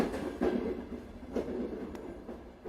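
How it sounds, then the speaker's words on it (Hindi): Train running on rails in a steady, ongoing rumble, with periodic clicks of wheels over joints and no voices. "ट्रेन अपनी रफ्तार में थी"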